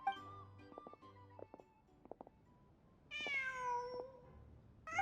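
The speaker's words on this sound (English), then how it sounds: "Just a cat." A cat meows in the video game Genshin Impact, one clear, drawn-out meow that rises and falls, coming after quiet game sounds and a few soft taps.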